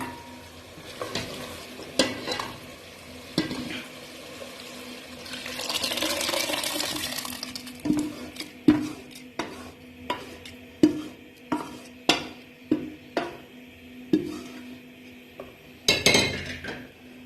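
Boiled chana dal is stirred into fried masala in a metal pot: a quiet sizzle runs under a run of sharp spoon knocks and scrapes against the pot, with a wet sloshing pour near the middle.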